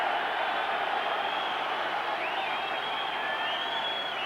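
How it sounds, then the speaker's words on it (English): A stadium crowd of Widnes rugby league supporters roars loudly and continuously at an offside decision during a Regal Trophy semi-final against Warrington, a dense sustained wall of cheering with whistles rising above it. "Roar from the Widnes crowd"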